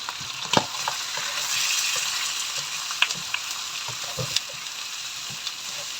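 Onions sizzle steadily in a hot pan and are stirred, with sharp clicks and scrapes of the utensil against the pan over a close, constant frying hiss. No voices are heard.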